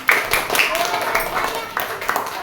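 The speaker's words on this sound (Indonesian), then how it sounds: "kita berikan tepuk tangan." Schoolchildren in a primary school classroom clap together in a quick, uneven patter that is fairly loud and close, with voices talking over the applause.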